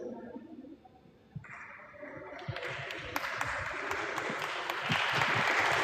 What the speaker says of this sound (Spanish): Que se escuchen estos aplausos.